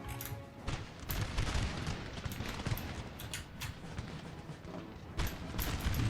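Musket volleys in the Napoleonic battle game Napoleon: Total War: crackling rolls of gunfire with heavier booms mixed in, loud and steady across the whole stretch.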